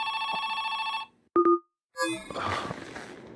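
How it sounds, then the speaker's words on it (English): A video game's phone ringtone sounds as a short, bright two-tone electronic ring, clear and close, after a stretch of game music and before a burst of noisy game sound. "Oh, I'm getting a phone call."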